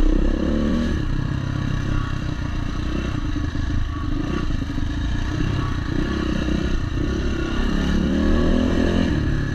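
A Yamaha WR400F dirt bike rides an MX trail, its four-stroke engine loud and close, revving and bogging continuously with rattling clatter throughout.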